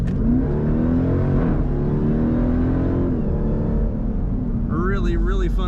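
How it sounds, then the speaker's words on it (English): A 2020 Jeep Grand Cherokee Trackhawk with a supercharged Hemi and automatic transmission accelerates hard in sport mode, its loud engine note rising steadily through a gear with a brief dip before climbing again, while a person talks over it. "Really fun acceleration."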